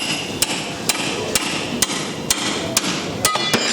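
Hammer blows on a pickle fork driven in to separate a ball joint on a 2007 Jeep Wrangler: eight sharp metallic strikes in a steady rhythm, close and loud over a low background hum.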